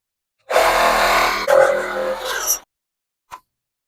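A Dremel rotary tool cuts metal near the intake pipe of a Nissan 370Z, a close, loud whine lasting about two seconds with a brief tap afterward.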